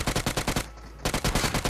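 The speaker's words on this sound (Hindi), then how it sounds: "तो यहाँ पे गन फाइट होगी" Rapid automatic gunfire rattles in bursts during a close-range gunfight in a battle royale video game, with a brief pause before the shooting resumes loudly.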